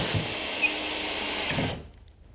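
Power drill driving a screw into greenhouse flooring while building a greenhouse foundation, a close, steady high whir that runs for under two seconds and then cuts off sharply.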